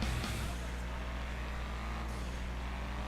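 A steady low engine drone of a car cruising in GTA, smooth and continuous with a faint whine on top, no talking.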